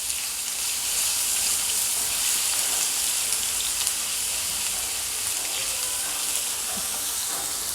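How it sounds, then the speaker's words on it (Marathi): Ginger garlic paste frying in a pan, a continuous bright sizzle with crackling and a soft hiss, close and steady with no speech over it. "टाकणार 1 चमचा अद्रक लसूण पेस्ट. याला चांगल्याने भाजून घेऊया सगळ्यासोबत."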